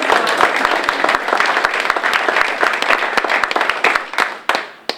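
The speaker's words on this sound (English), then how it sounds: "Let's give them a round of applause." Audience applause at a history museum event about the All American Girls Professional Baseball League, a lively burst of crisp, close claps from a modest crowd that thins and fades out near the end.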